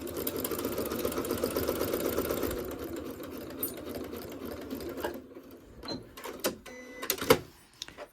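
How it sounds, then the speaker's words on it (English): A sewing machine stitches quilt blocks together with a steady mechanical whir for about five seconds, then stops into quieter handling noises and a few short clicks and bumps. "I'm going to start sewing."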